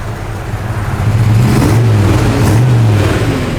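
A 1969 Chevrolet El Camino engine revs up nearby, its low growl rising and swelling loudly in pitch over a few seconds, with no talking.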